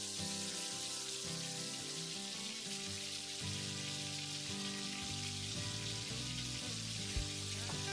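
KFC-style coated chicken fries over a medium flame, its soft continuous rain-like sizzle running under steady background music, with no talking.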